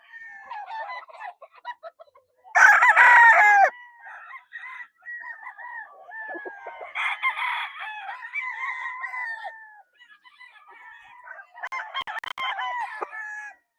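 Kelso cross gamefowl roosters at a gamefarm crow loudly several times, with bursts of clucking and softer calls between crows, close by and with no talking.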